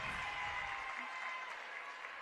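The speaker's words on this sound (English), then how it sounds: "plenty of Fever fans in the house today. They were cheering that one." West Coast Fever fans in the stands at a netball game against the Melbourne Vixens in Ballarat break into steady applause and cheering, a sustained crowd roar with no pauses.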